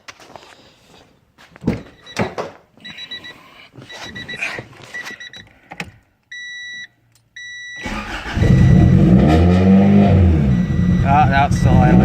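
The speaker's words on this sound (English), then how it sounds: "That's still idling fine." A Honda Accord with a temporarily patched vacuum leak, first door thunks and key chimes, then the engine cranks and starts and settles into a loud, steady idle close by.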